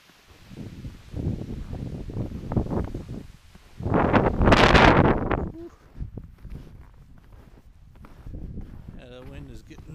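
Gusts of wind on a snowy winter mountain trail hike roar against the microphone in surges, loudest midway, mixed with crunching footsteps and someone talking.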